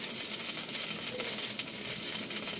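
Spice paste sizzling and frying steadily in a hot pan, a close, dense crackle with occasional stirring and no talk.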